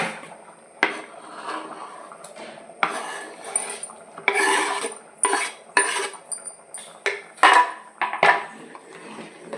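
Metal pots and utensils clink and scrape as mango pieces go into cooked toor dal in a pot, a run of sharp clattering knocks that turn busier and louder toward the end, with no talking.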